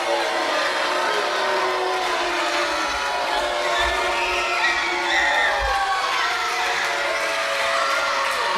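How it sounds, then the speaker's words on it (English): A raucous wrestling crowd at a championship triple-threat match, a dense, loud wash of shouting and cheering voices rising and swelling steadily with no pause. "This raucous crowd letting him know what they think of him."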